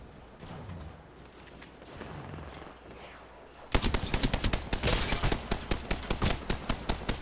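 Video game gunfire breaks out after a quiet start, a loud rapid automatic burst of shots in quick rhythmic succession, close and without talk.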